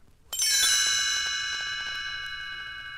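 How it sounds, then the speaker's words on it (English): A single bright chime rings out clearly and lets its shimmering metallic tone slowly fade, with no voices. "You will know it is time to turn the page when you hear the chimes ring"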